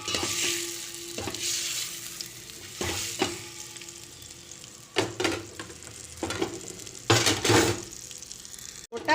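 Eggs frying in a pan for egg biryani, a steady sizzle broken by repeated scraping stirs and clinks of a spoon against the pan, fairly close and without talk.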